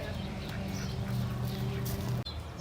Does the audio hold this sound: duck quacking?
yes